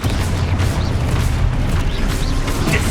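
A Confringo fire-spell blast in the Hogwarts Legacy video game: a dense, sustained rumbling boom that stays loud and even throughout, with no clear pauses.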